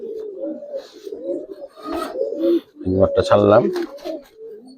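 A silver jumper pigeon gives low, repeated coos nearby while someone talks loudly over and between the calls.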